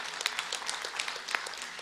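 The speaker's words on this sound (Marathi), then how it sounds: "त्या सर्वांसाठी टाळ्या वाजवा सगळ्यांना मी अशी विनंती करतो" Applause from a crowd at a government book festival event, a moderately loud patter of many hands clapping throughout with no voices.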